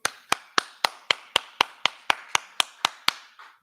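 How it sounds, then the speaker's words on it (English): Steady, evenly spaced claps, about a dozen sharp hits in a row at a measured rhythm, close and fairly loud, with no talking over them, led in a class setting. "All right, clap it up."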